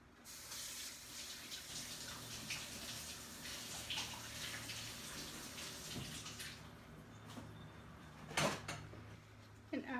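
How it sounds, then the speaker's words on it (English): Hands are washed under a running kitchen tap while meatloaf is being made, a steady faint rush of water with splashing and a few clunks, the flow cutting off near the end. "So then you want to wash your hands."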